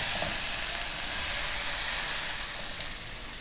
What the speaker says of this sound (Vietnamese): Xong mình đổ nước vào.